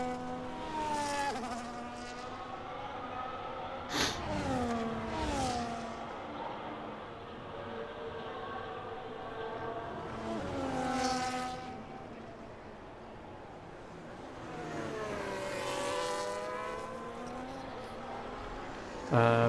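A race car on an out lap at Imola in a racing video game whines through rising and falling engine revs, with gear shifts and a sharp transient along the way, steady and fairly close.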